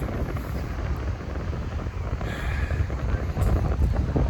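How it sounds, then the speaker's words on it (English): Outdoor wind buffets the microphone in a continuous heavy low rumble with gusty swells, loud and close, with no talk over it. "can't imagine the wind's helping much."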